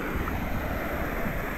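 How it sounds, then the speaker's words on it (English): Waterfall pouring into an icy stream, a steady broadband rush of falling water that sounds close and fairly loud, with constant wind-like hiss and no pauses. "Nice waterfall, so leading straight down to where Nathan just solved Rubik's Cube"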